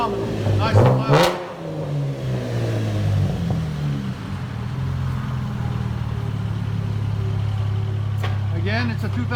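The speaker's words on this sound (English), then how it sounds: "it's a 2012 Chevy Camaro V6. Did a muffler delete." Loud straight-piped 2012 Chevy Camaro V6 with a muffler delete blips sharply once or twice near the start, then settles into a steady, raspy, droning idle heard close up, with a short voice near the end.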